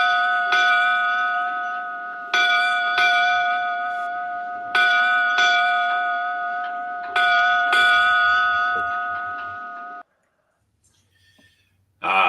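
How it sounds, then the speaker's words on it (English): A ship's bell rung eight times in four paired strikes, each clear metallic clang ringing out and decaying before the next pair, then falling silent. "8 bells."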